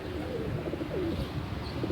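A pet pigeon coos softly, low repeated throaty calls over a steady faint background hum, no voices, close and quiet.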